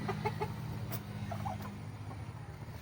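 Short, soft clucking of a hen in bursts, over a steady low background hum.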